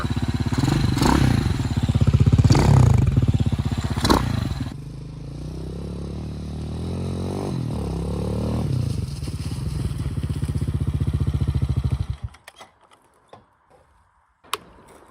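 Restored junked Hawk 250 motorcycle engine running while being ridden, a loud chopping exhaust thrum with rising and falling revs that eases off and cuts out near the end, leaving a few faint knocks.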